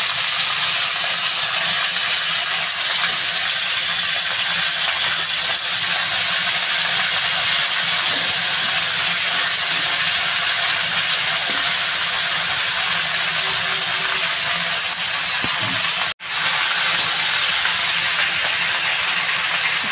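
Chopped radish greens going into a pan with onion and frying, giving a steady, loud, broadband sizzle and hiss that runs continuously with no voices over it.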